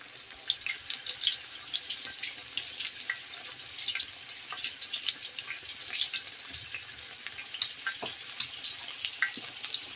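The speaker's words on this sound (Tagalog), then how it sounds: "Now guys, hugasan ko yung aking kamay." Hands are washed under a running kitchen tap, the water splashing and trickling softly and steadily with small irregular spatters, fairly close and quiet, with no talking.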